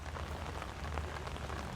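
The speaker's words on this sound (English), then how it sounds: "this is a really peaceful rain" Steady, peaceful rain falling outdoors, a soft continuous patter on surfaces with no voices.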